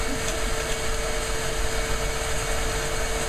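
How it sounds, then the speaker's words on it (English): A steam engine with a homemade boiler runs on suction with a steady, droning mechanical hum and a constant hiss, even and unbroken throughout. "I'm trying to film a steam engine here."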